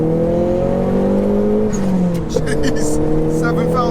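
A Nissan Pulsar GTI-R hot hatch engine accelerates hard from inside the car, a loud, steady rising drone with gear-change dips and a voice speaking over it.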